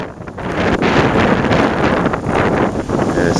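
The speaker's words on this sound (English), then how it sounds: "The wind's up too high." Strong wind roars steadily across the microphone during a Cape Breton snowstorm, a loud, continuous buffeting gust noise with brief swells and no talk.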